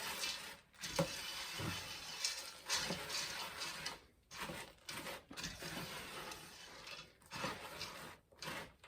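A spoon works through a sticky Cheerio bar mixture in a pot, giving irregular scraping and clinking sounds with short pauses, close and fairly quiet.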